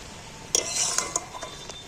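A spoon stirs fried spices into boiled amla in a pan or bowl, with a few light metallic clinks and scrapes over a quiet background.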